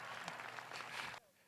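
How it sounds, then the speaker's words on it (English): Brief burst of audience applause at a Tennis Hall of Fame induction, honoring the inductee's husband, a dense clapping wash that cuts off abruptly after about a second. "I think John deserves another round of applause."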